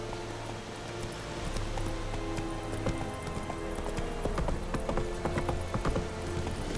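A horse gallops in The Witcher 3: Wild Hunt, a steady run of clip-clopping hoofbeats with game ambience and a soft hum beneath, no talking over it.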